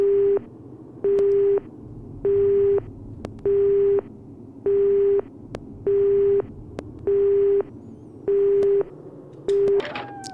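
A telephone busy tone in the Resident Evil Survivor video game pulses steadily, about nine evenly spaced beeps with short gaps, loud and alone after the caller hangs up.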